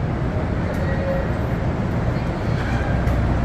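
A multi-level commuter train at Hoboken station gives off a dense low rumble with faint squeals above it, steady and moderately loud in a busy station.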